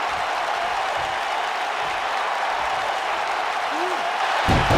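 Steady broadband roar of an arena crowd cheering during a tag team wrestling match in WWE 2K19, with a brief swell near the end.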